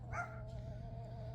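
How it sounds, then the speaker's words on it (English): Dogs barking at a kennel or yard, a short burst of yips and barks near the start over a steady low hum, fairly close and without talk. "These ones here, you all quit barking"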